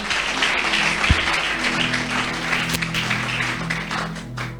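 An audience applauds at a charity event, a steady wash of clapping with a few sharper claps over a low tonal hum, lasting the whole stretch at a consistent level.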